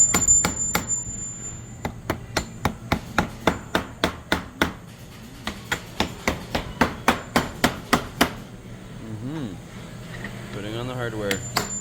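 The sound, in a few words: hammering hardware onto a casket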